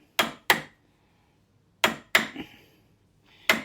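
Chisel strikes notching the edge of a wooden door being hung, five sharp separate knocks in small clusters with quiet pauses between, close and alone without talk.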